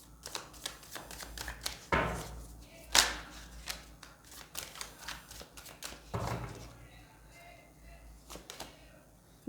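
Tarot cards being shuffled by hand, a run of crisp riffling bursts and soft papery slaps with two sharper snaps, close up with a faint voice in the background.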